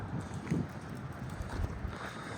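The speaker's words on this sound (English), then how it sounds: "Crazy, crazy windy right now." Strong gusty wind outdoors buffeting the microphone with a continuous low roar and rumbling bursts, fairly faint overall, with no talk.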